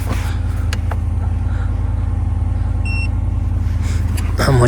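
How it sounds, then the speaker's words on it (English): A car being started from inside, with a steady low engine rumble running throughout, a few electronic beeps partway through, and a rise in rumble near the end. "And gotta just turn on the car."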